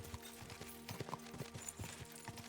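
Horse hooves clop at a steady galloping rhythm in the video game Kingdom Come: Deliverance II, soft and somewhat distant, with no speech over them.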